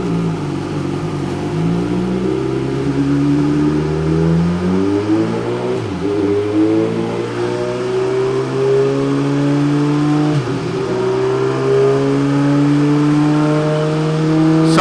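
A 2017 Suzuki GSX-R1000 motorcycle engine, mapped through a Power Commander, climbs through the gears on a test ride, its loud close whine rising repeatedly with brief dips at each shift.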